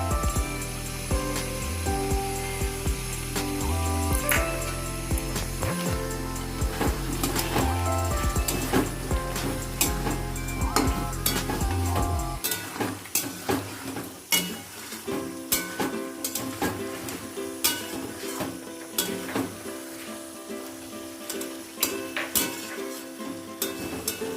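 Chicken sizzles in a pan as ginger garlic paste goes in and a utensil scrapes and clanks against the metal, steady frying under sharp stirring clatter with no talk.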